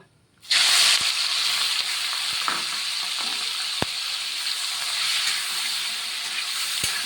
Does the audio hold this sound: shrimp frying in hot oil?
yes